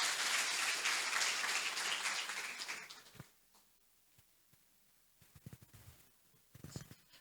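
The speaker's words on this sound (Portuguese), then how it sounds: "Vamos aplaudir bem forte o Senhor." A church congregation claps loudly for about three seconds, then the applause cuts off, leaving faint rustling and a few small knocks in a quiet room.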